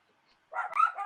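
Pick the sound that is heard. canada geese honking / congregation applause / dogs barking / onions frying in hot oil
dogs barking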